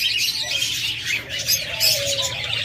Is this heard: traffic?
no